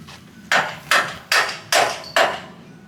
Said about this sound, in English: Hammer over there.